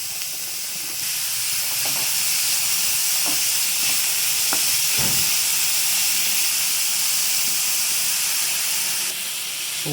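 A steady sizzling hiss of onions sautéing in a pan, with a few faint clicks and scrapes, continuing without any talk.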